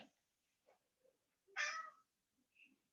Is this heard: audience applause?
no